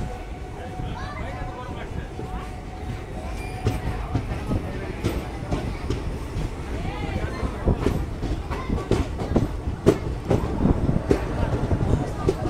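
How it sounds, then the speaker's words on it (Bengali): Teesta Torsa Express sleeper train running between Sealdah and New Jalpaiguri, a steady rumbling clatter of wheels on rails with rhythmic knocks, heard from inside the coach with a voice talking over it. "আমি স্লিপার ট্রেনে জার্নি করছি"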